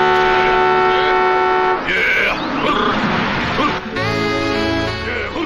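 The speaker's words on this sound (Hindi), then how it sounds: "Idiots, हॉर्न बजा रहे हो, सुनाई नहीं देता है क्या?" A vehicle horn honks loudly and steadily on a road where sheep are being herded, with a second sustained blast after a brief break and other horn tones layered in.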